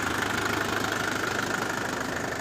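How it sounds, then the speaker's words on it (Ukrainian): A Scout 404 tractor runs with a Zorya 1.8 rotary tiller working soil at 540 PTO rpm, a steady loud engine drone with rhythmic knocking pulses throughout and no voices. "Фріза, я вам скажу, працює."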